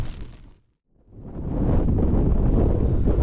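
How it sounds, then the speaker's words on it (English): Strong wind batters a Terra Nova tent while wild camping in the Peak District, roaring gusts hitting the microphone close and loud, briefly easing before surging back, no speech. "You can see the tent's taking a bit of a battering from this wind"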